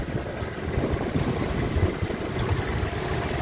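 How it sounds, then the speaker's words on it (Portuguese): A 2010 Chevrolet S10 with a GM flex engine idles smoothly, giving a steady, even low rumble close by with no revving and no voices. "funcionando, motorzinho redondo"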